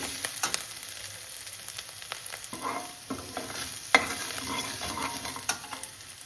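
Spices for a tadka fry on a slow flame for moong-masoor dal, with a low steady sizzle broken by frequent spoon scrapes and stirring clicks, close and quiet with no talk.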